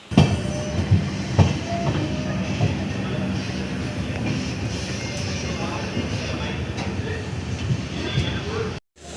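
An Indian passenger train near Tambaram, Chennai, rumbles along steadily with rattling carriages and occasional clunks, a low continuous roar filling the clip before it cuts off abruptly.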